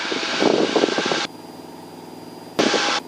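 Loud, steady engine drone inside the cockpit of a small plane in flight on a first pilot flight, dropping abruptly to a quiet hum partway through, then returning.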